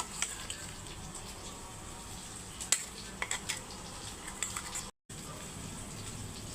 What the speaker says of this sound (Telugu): మిరమంతా పెరుగులో కలిపేస్తున్నాను